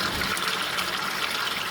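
Fresh water gushes steadily from a tap while Mitsubishi GH Sigma seat covers are washed, a continuous close hiss of running water.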